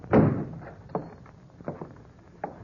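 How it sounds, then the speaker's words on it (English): A door shoved open with a heavy thunk at the start, followed by a few fainter knocks and thumps spaced out in a quiet room, as in an old Western drama. "If you want in, just shove the door."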